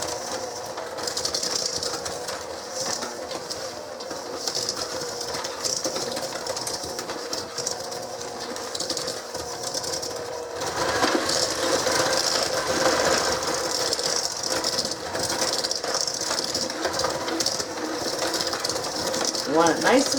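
An electric mixer creams brown and white sugar for crispy rice chocolate chip oatmeal cookie dough, giving a steady whirring motor drone that grows louder and fuller about halfway through.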